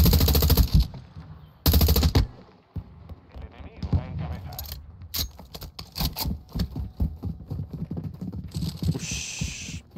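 Gunfire from a weapon in the video game GTA comes in loud bursts of rapid shots, with short pauses and clattering game effects between them.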